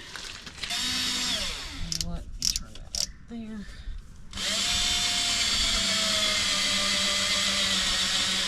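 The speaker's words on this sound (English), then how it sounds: "I need to drill a hole for them to go into" A cordless drill whirs in short bursts, then runs steadily at a higher, stronger pitch while drilling a hole in pallet wood; someone speaks briefly between the bursts.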